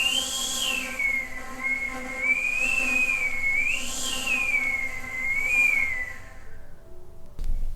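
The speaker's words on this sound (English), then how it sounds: "the player is asked to play whistle into the flute" A flute played with whistle tones gives a thin, pure, gliding whistle that wavers up and down in slow arcs for several seconds before stopping, heard alone and fairly loud.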